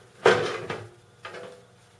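A PowerMac G5's clear acrylic air-guide panel is pulled out, giving a close plastic clack, then a second lighter knock a moment later.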